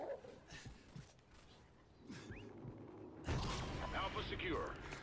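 A guard dog barks and whimpers in a Call of Duty: Ghosts multiplayer match, short yips under game noise, gunfire and voice chat, with a louder burst of action near the end.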